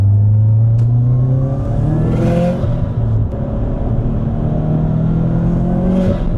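A turbocharged Subaru STI accelerates hard during a ride-along, its engine note climbing through loud sustained revs with rising pitch sweeps and a gear change, heard from inside the car.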